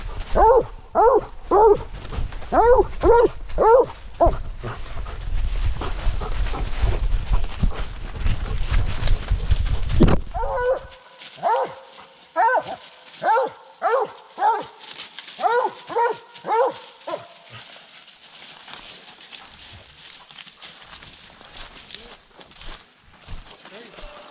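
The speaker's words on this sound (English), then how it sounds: "The dog's never got that close to the deer before." A blood-trailing dog barks in quick repeated bursts as it reaches a deer, loud and close, with a heavy low rumble under the first half before the barking continues in clusters over quieter ground.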